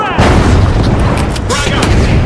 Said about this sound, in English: Throwing a frag.